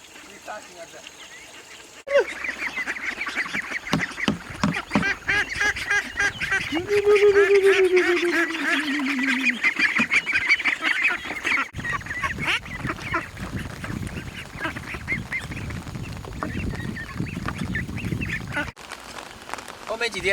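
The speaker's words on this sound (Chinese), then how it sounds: "听到鸭子在叫了。" Large ducks at a rain-swollen fish pond give loud honking, quacking calls in repeated bursts, up close and mixed with a person talking over them.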